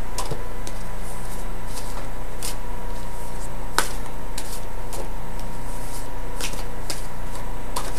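Tarot cards being shuffled by hand during a reading, a steady papery riffle with sharp intermittent snaps and taps, close and fairly loud, with no talking.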